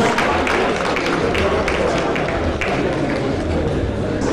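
Audience applause welcoming a Nigerian singer at a live broadcast event, a dense, steady wash of clapping from a large crowd that holds at an even level throughout.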